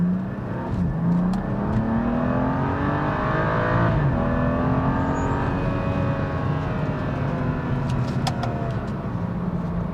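A BMW 435i with an intercooler and charge pipe upgrade pulls away from a stop under partial throttle, its engine note rising steadily in pitch through the revs, loud and close from inside the cabin, with no talking.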